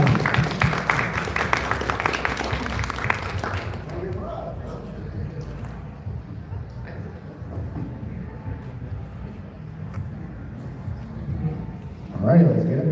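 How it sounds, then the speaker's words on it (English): An audience at an anime convention's model-kit competition applauds the second-place winner, with steady clapping for about four seconds that then thins out into quiet room noise and murmuring. "Give him a round of applause"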